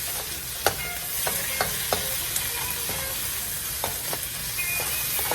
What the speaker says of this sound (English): And you sauteing that down